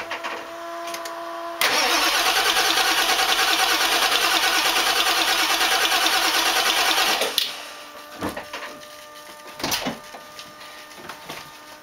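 A 2003 Powerstroke diesel engine swapped into a 1997 Ford F250 cranks and roars into life, running loud and steady for about six seconds before cutting out, followed by a few faint knocks and clunks.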